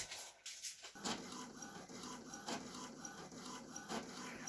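An inkjet printer runs off a calendar page, a steady mechanical whirr with repeated clicks and carriage passes at close range, its pace shifting as the paper feeds through.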